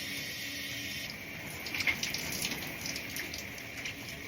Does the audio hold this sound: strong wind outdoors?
no